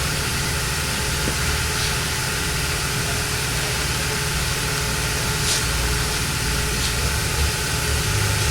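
Jeep Scrambler engine running steadily before an off-road test drive, a constant loud rumble with broadband noise and no change in pace across the whole stretch, with no voices.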